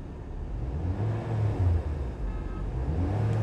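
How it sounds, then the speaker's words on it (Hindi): A Honda City car engine runs and revs as the accelerator is pressed after an accelerator fault was repaired, giving a steady, close, low rumble that rises and swells slightly with no voices. "अभी देख सकते हो मैं इसको एक्सीलेटर दूँ अगर गाड़ी का तो आरपीएम बराबर एयरलिंग पे ऊपर जा रहे हैं।"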